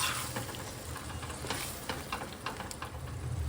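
Green peas frying with paneer masala in a pan, giving a steady, close sizzle with faint stirring scrapes throughout, no voices.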